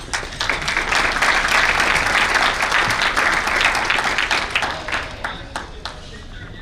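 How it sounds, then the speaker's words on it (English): Graduation-party guests give a round of applause, with dense, steady clapping from a small crowd for several seconds before it thins out and fades. "Let's give you all a round of applause."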